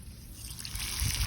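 Rushing, trickling water in the video game Isle of Dinos splashes continuously and grows a little louder toward the end, with no voices.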